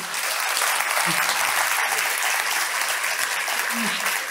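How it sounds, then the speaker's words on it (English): A conference audience at a tech event in Copenhagen gives sustained applause, a dense, even wash of clapping with voices mixed in. "I don't know if you can hear the applause, but it's a lot of it"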